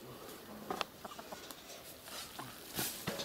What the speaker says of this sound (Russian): Курица до того смелая.